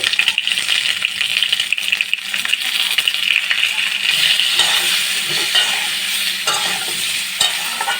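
Potatoes with salt and turmeric are stirred in a hot pan, giving a loud, steady hiss of frying with scraping and occasional clinks of the spoon.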